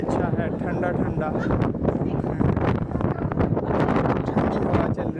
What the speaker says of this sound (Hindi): वो हवा, विंड काफ़ी तेज़ है।